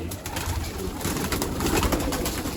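Pigeons cooing close by, soft throaty repeated coos over a dense rustling background, with no voices present.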